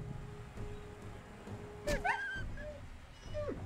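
A dog whimpering in the PS2 video game Gladius (2003), a brief high yelp and whine rising mid-clip and again near the end, over low game background sound.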